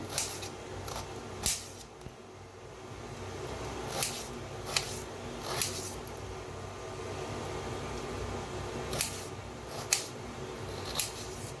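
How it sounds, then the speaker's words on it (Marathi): A large peeled potato being cut into long pieces, giving sharp separate knife chops at irregular intervals over a quiet background hum. "मोठं बटाटो घेतलं होतं तर असं लांबकुळं कापून घेऊया"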